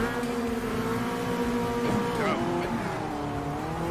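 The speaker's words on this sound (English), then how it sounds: "Jumping into the Chevrolet Corvette the Copa Classics at 123 horsepower" Engine of a 123-horsepower Chevrolet Corvette race car in the Copa Classics class of Automobilista 2, a steady loud drone with shifting pitch as the car accelerates and changes gear in a multi-car race.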